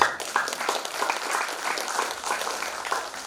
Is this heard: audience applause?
yes